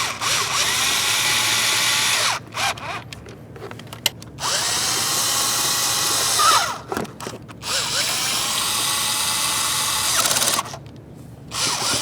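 A power tool snugs throttle body bolts on a 2012-2018 Nissan Altima 2.5L, loud close whirring bursts of a few seconds each, separated by short pauses.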